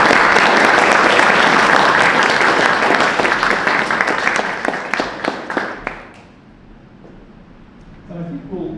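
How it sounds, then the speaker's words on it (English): Loud, dense applause from a crowd gathered in a historic church in London, Ontario, sustained for about six seconds before fading into quiet murmurs and a few faint voices. "Please, a round of applause."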